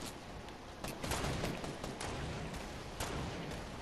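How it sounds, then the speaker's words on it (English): Dense bursts of rapid automatic gunfire in a shooter video game, with a Scar rifle among the weapons, roar continuously and loudly without a break. "Oh, they're getting shot by someone else."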